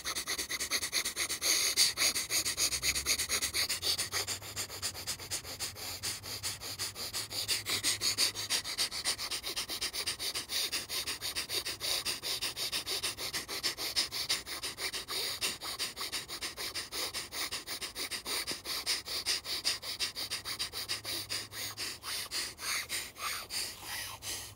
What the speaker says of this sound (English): Let's do the final round, breath of fire, in through the nose, out through the nose.